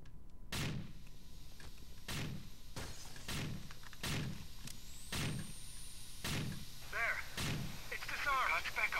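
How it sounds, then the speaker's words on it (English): Repeated heavy gunshots boom at a steady pace, about one per second, with sharp high cracks, a faint whistle, and chirpy electronic blips near the end, in the video game Rainbow Six Vegas 2. "We hear the gunfire, Logan."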